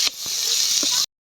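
Fig paste mixture hitting hot oil in a wok, a bright steady sizzle for about a second before cutting off abruptly into silence.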